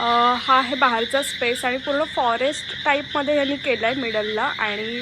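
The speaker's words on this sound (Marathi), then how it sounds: "फुल ते रातकिडे वगैरे ओरडत आहेत" Frogs croak in rapid repeating calls over a background of crickets at night in forested grounds around a villa, loud and close, while someone talks over the chorus.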